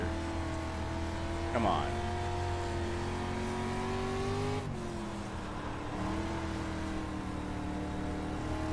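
Dirt street stock race car engine in the iRacing sim, steady droning harmonics with rising and falling revs, a brief tire chirp near the start, and someone talking over it.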